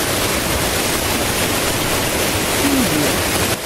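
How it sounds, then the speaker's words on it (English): Water gushing from a hidden spring opened by a stick pushed into a holed stone near a well, heard as a steady, loud, broadband rush that continues unbroken throughout. "Inserting a stick, water gushed forth,"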